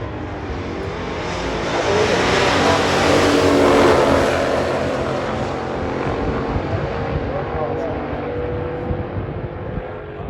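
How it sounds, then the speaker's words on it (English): Hemi Cuda muscle car roaring down a drag strip at a pure stock drag race, a loud sustained engine blast swelling to a peak midway and then holding as it recedes, with no talk. "So that was just the Hemi Cuda that ran 1/100th faster than the Gremlin."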